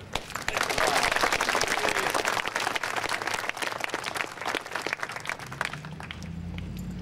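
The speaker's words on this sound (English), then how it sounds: "join me in a round of applause" An audience at a Veterans Day award ceremony breaks into applause, a strong burst of clapping that thins out over several seconds before a low tone and faint voices take over near the end.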